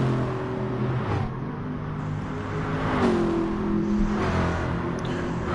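A race car in a racing video game set at Bathurst, its engine droning steadily at high revs, then dropping pitch with an upshift partway through before climbing again, loud and continuous with no voices.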